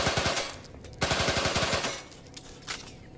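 Rapid bursts of machine pistol fire from the video game The Outer Worlds 2, two loud, closely spaced volleys of quick rhythmic shots, followed by a few scattered single reports.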